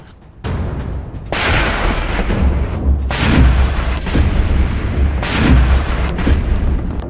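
Heavy booming blasts roll in one after another, loud and continuous, with deep rumbling between the bursts of artillery fire and no voices.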